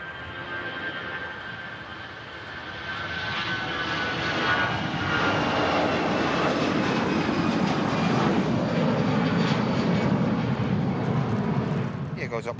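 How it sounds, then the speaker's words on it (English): An EasyJet jet airliner takes off from Manchester Airport, its engine roar building steadily and staying loud and sustained, with faint voices talking beneath it. "Goes up on the EasyJet."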